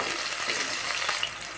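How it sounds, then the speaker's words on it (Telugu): Onions and green chillies fry in hot oil for a mushroom curry, giving a steady, close, dense sizzle with faint crackles and no talking. "బాగా ఫ్రై చేసుకోవాలి."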